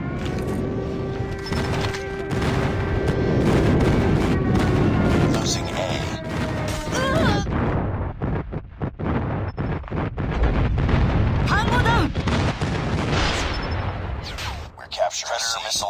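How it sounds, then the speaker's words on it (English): Airstrike explosions in the mobile shooter Call of Duty Mobile during a ranked domination match, with heavy rolling booms and gunfire layered densely over sixteen seconds, loud and continuous, alongside game voice announcements. "Friendly airstrike incoming."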